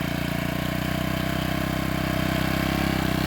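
A small engine idles after a choke start, warming up with a steady, close, rhythmic putter that holds an even pitch and loudness throughout.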